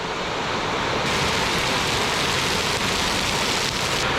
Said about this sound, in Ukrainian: Аж потемніло такий дощ валить.